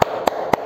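Three sharp hand claps fall at a steady rhythm in a class spirit-clapping chant, close and crisp with near silence between them.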